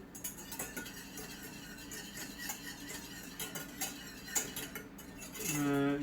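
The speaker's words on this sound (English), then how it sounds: "Just constantly stir until it boils and cut the heat." A spoon stirs butterscotch sauce in a pot, made with lemon juice and bourbon, scraping and clinking steadily against the metal for several seconds, with a louder scrape near the end.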